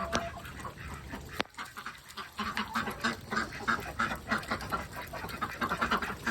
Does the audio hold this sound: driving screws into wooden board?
no